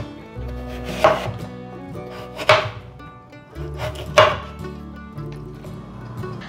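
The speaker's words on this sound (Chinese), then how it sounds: "把芋头切片" Peeled taro sliced with a knife on a cutting board: three crisp, separate chops spaced a second or more apart, heard close over steady background music.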